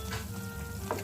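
Paksiw-style bilong-bilong fish cooks in a pot of water, making a steady bubbling, sizzling simmer up close with a couple of soft stirring knocks.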